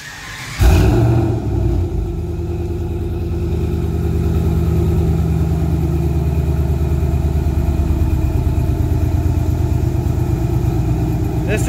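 Ram truck with a 5.7 Hemi V8 and Thrush Rattler mufflers cranks over and settles into a steady, deep, rumbling idle with a loping exhaust pulse, close and loud throughout.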